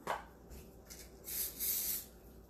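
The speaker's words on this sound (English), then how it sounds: "I'm just going to spray my hand a little bit" Ghee cooking spray is sprayed onto a hand in a home kitchen, giving a few soft hissing bursts of moderate loudness, the longest and strongest near the end.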